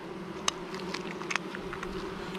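Honeybees being moved from a swarm trap into a 10-frame hive give a steady, soft, close buzz that runs throughout, with a few faint taps and clicks and no talking.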